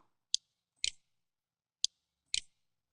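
A few sharp, isolated key clicks from typing a command at a computer keyboard, four distinct taps with pauses between them, quiet and close with no talking.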